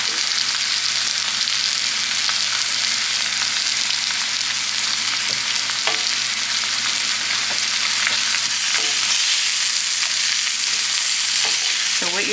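Haddock fillet sautéing in a pan alongside onion and asparagus with spices, giving a steady, close hiss of frying that runs the whole time, with occasional small pops and light stirring taps.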